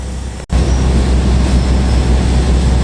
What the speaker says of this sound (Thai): มีรถไฟ